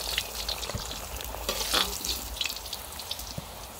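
Food fries in a kazan, sizzling at moderate volume with small crackles and stirring clinks as pieces are turned and new ones are added, close and without talk.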